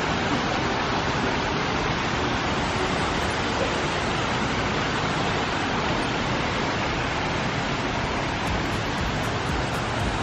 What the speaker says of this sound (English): I like it with all the very pleasant waterfalls.